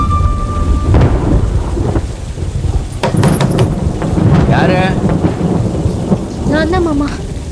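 Thunder rumbles and cracks over steady rain in a 1930s Agraharam village scene, with a heavy broadband wash throughout and brief voices surfacing near the end.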